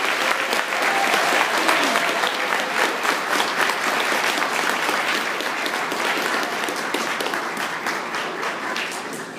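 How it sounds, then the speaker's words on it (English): Sustained audience applause for newly inducted members standing at the back of a room during an induction ceremony, steady dense clapping that fills the whole stretch and tapers slightly toward the end. "let's give them all one big round of applause"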